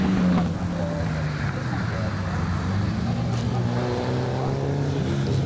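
A small sports car with a 1600 Datsun engine revs and drones past at speed at a hillclimb, steady and moderately loud, with faint talk underneath.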